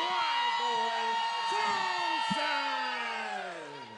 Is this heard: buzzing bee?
no